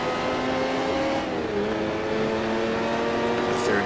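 Racing engines from 1967 sports cars, including Ford GT40s, in the Grand Prix Legends sim game wail continuously up close, their pitch sliding and shifting as the cars work through corners amid surrounding traffic.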